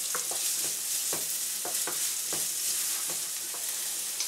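Onion frying in a pan with oil, a close steady sizzle broken by repeated sharp stirring scrapes and clicks at an uneven rhythm.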